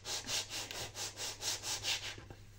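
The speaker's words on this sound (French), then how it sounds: "Et je le frotte contre mon tapis de coupe." Cardboard rubbed firmly against a cutting mat to crease a fold, about nine rhythmic back-and-forth scraping strokes, close and clear, with no talking.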